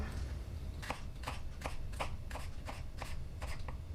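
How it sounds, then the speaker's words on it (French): A knife finely minces a peeled garlic clove on a cutting board, making a quick series of about a dozen crisp, evenly spaced taps over steady low background noise. "C'est tout d'abord d'émincer la gousse d'ail finement."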